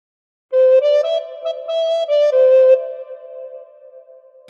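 A recorder plays a short phrase from the Battle Hymn of the Republic, a handful of clear breathy notes at moderate pitch, close and alone, ending with one long held note that fades.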